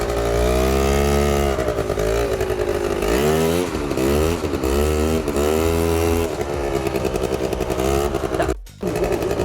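A quad bike engine revs hard on the throttle, a loud close buzzing roar that climbs and dips in repeated surges, briefly cutting out near the end.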